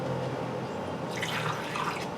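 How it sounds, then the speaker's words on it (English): Water trickles and drips steadily from a watering can into a plant pot, a soft continuous pour with no voices. "so I can just use my watering can"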